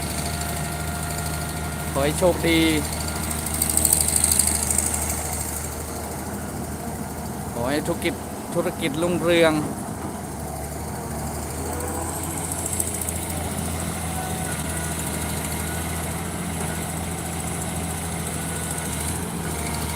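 A Cat backhoe excavator digging soil for a farm pond idles with a steady low engine drone and faint vibration throughout. Someone speaks over it intermittently.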